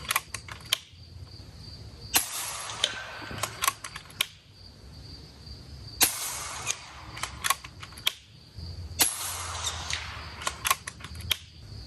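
An FX Dreamline Power-Pup air rifle fires 30 grain slugs, three sharp close cracks a few seconds apart, each followed by a brief mechanical clatter over a quiet background.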